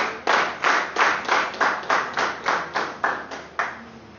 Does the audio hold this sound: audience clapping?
yes